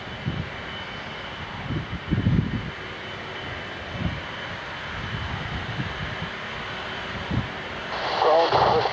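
An Air Transat Airbus A330-342 takes off at Shannon, its jet engines a steady, distant roar that builds toward the end. Intermittent voices, like radio chatter, talk over it.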